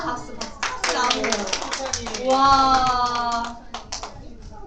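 Children in a church kids' class clap for a classmate with a burst of quick, fairly close hand claps, mixed with an adult's and children's voices talking over them.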